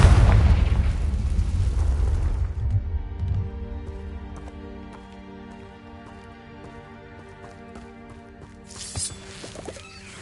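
A Bombarda blasting spell explosion, a loud deep rumbling boom that fades over a few seconds into a quieter tonal background with faint ticks, then a small late burst, no talking.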